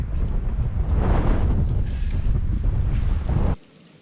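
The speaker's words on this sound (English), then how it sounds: "The wind is a bit less down here, but it's turning into a bit of an epic day." Strong, blustery wind buffets the microphone on an exposed Cape Wrath Trail hiking path in Scotland, a loud continuous roar that cuts off abruptly near the end.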